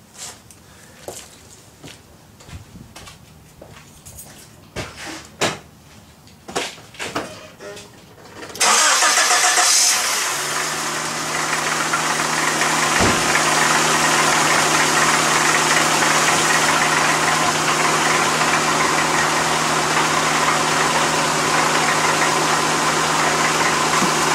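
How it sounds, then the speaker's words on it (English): A Honda Civic engine cranks and catches after a stretch of clicks and light handling noises, then settles into a steady, loud idle that runs on continuously with a constant hum. "now you're gonna start your car"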